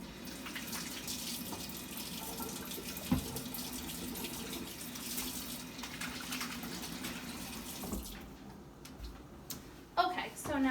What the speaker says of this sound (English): then you want to wash your hands to make sure everything is sanitary